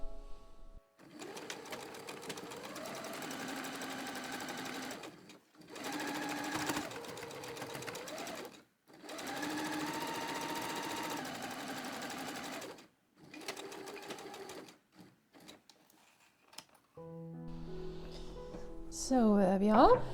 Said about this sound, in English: I will just sew these two outer leg seams